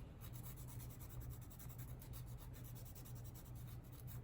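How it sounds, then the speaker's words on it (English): A soft nail buffer rubs steadily across a fingernail to take off its shine, a continuous close, quiet scuffing texture with a faint regular back-and-forth rhythm and no talk. "take the soft side and just take the shine off of your fingernail."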